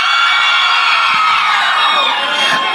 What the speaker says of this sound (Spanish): Aplausos para la Bastantona.